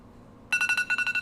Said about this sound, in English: at the end of the 10 seconds, you're going to hear my phone go off. Of course, it's an iPhone